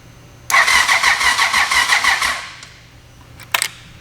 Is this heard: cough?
no